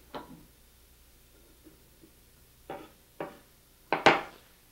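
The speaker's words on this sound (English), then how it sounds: "best thing is to just line up those sticks and then chop down" A big kitchen knife chopping down through a lined-up row of vegetable sticks on a cutting board; a few sparse, sharp knocks, with a cluster of louder chops near the end, close and clear in a quiet kitchen.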